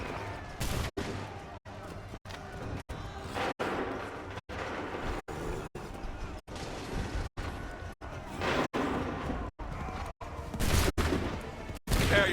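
Repeated massed musket volleys in the Assassin's Creed 3 video game, roughly a dozen loud rattling bursts in steady succession broken by brief silences, with running and battle noise between.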